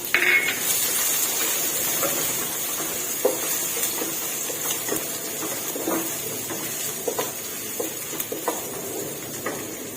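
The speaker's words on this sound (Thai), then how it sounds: "ตามด้วยกระเทียมค่ะลงกระเทียมให้หอมค่ะ" Garlic frying in oil in a nonstick pan, a steady broadband sizzle that runs throughout, with occasional stirring clicks and light pan knocks over it.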